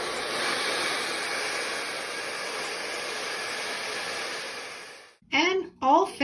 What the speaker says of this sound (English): you're just going to start your hair dryer on a really high heat